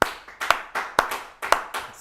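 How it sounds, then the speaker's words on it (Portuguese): A few sharp, close hand claps in a corporate workshop setting, spaced roughly every quarter second in an uneven rhythm, each crisp and decaying quickly, with no talk. "palmas para Marcos"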